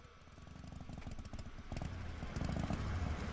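A vehicle engine in the video game Trüberbrook, running hot with an empty tank, idles and revs steadily with a rough, pulsing mechanical rumble that grows a little louder partway through.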